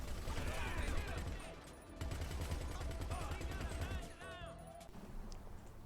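The stock mounted gun on a Caracara in GTA fires in long rapid-fire bursts, dense repeated shots with a short break, while a voice talks over the shooting.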